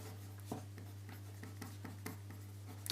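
Pen or marker writing out a trigonometry mnemonic, with faint, light scratchy strokes and taps spread across a few seconds over a steady electrical hum, quiet and close, with no speech.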